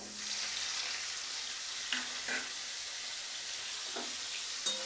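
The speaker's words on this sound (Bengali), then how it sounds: "তেল গরম হয়ে গিয়েছে এখন পনিরগুলো দিয়ে দেবো" Paneer cubes sizzle in a little hot oil in a wok, a steady broadband crackle with a few brief stirring clinks, fairly close and even throughout.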